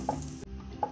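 A paratha sizzles and fries in a hot pan, a steady close crackle with two brief louder scrapes or stirs, no talking.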